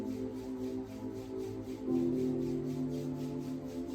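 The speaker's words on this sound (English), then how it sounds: "begin rubbing your hands and palms together" Palms and hands rubbed briskly together during a yoga session, a steady soft swishing friction that runs throughout, set against a low sustained musical drone.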